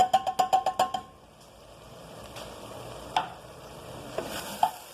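Meat pie filling with canned corn stirred in a pan: a quick run of sharp ticking spoon taps at the start, then a low sizzle with occasional scrapes, close and moderately quiet, no talking.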